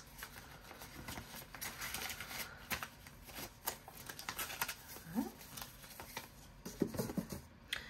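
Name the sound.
cash bills being stuffed into savings envelopes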